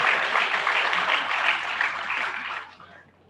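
A crowd at a college ideathon prize announcement gives steady, dense applause for a winner, holding for over two seconds before thinning and fading out.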